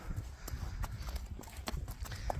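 A ridden horse clip-clops at a steady walk, its hooves striking in an even, close rhythm over the whole stretch.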